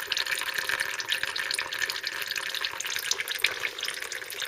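Brake fluid trickles steadily from the front brakes of a Mk3 Ford Cortina Estate during bleeding in a workshop, a continuous soft splashing and dripping with no talk.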